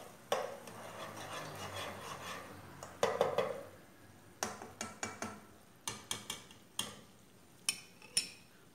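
Melted sugar and butter stirred in a pot, heard as a run of distinct scraping and clinking strokes of a spoon against the pot, spaced irregularly over a soft bubbling background.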